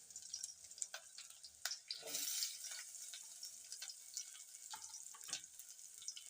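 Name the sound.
onion and green chilies frying in a pan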